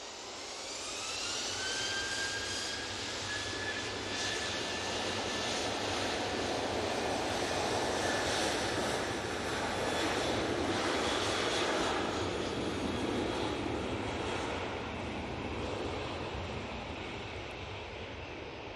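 A jet airliner departs Manchester Airport for Eindhoven, its engines swelling into a broad, sustained roar with a rising whine near the start, heard from a distance and holding steady for the full length without speech.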